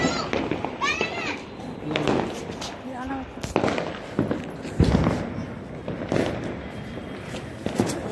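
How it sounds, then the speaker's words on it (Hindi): Diwali sparklers and firecrackers go off at a family celebration, with scattered sharp pops and crackles among children playing and lively voices talking throughout. "पापा फुलझड़ी फुल फुलझड़ी चलाते हैं"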